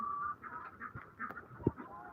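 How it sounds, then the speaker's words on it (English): A small Sebright rooster on a farm gives a few faint, short fowl calls over soft background noise, with one sharper squawk near the end. "that's our little sea-bright rooster"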